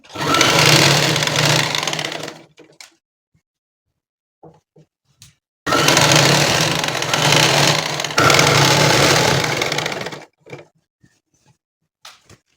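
A sewing machine stitches the side seam of a nighty, running loud and close in two long bursts of rapid whirring separated by quiet pauses, with small handling clicks between.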